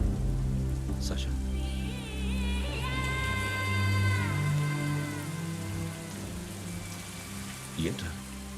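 Steady rain falls in a film scene, a soft continuous patter under background music, with brief vocal sounds and a short noise near the end.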